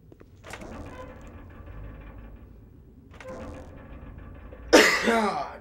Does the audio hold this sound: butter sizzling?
no